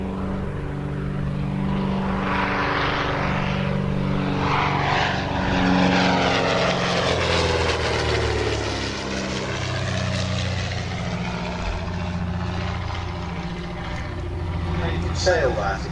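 A pre-war propeller-driven RAF aeroplane flies past at an air display, its steady engine drone swelling and fading continuously overhead as a voice talks over it.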